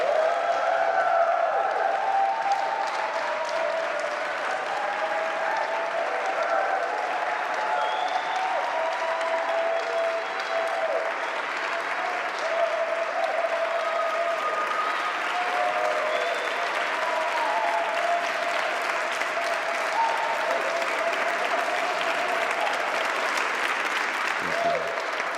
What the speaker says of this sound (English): Can I please get a round of applause and a raucous cheer